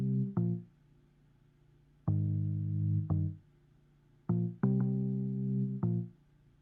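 A quiet, moving fuzz synth stands in for bass guitar in a Logic Pro X song production, playing low sustained notes under the chords in several swelling phrases, each starting with a soft attack and holding steady.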